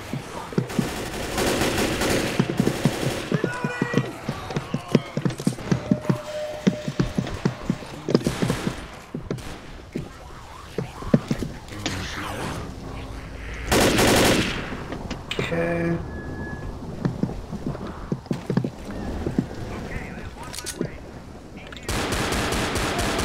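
Gunfire in the video game Left 4 Dead rattles in rapid bursts and single shots, close and loud, scattered across the scene with pauses and other game noises, while players talk over it.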